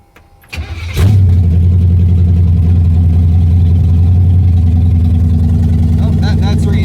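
An old Pontiac with a new exhaust cranks, catches and settles into a loud, deep rumbling run, close by, with brief talk near the end.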